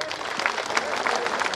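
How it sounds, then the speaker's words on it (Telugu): An audience claps for a children's yoga performance at a cultural venue, a short burst of steady, crowded applause throughout. "ఒకసారి పెద్ద క్లాప్స్ అండి."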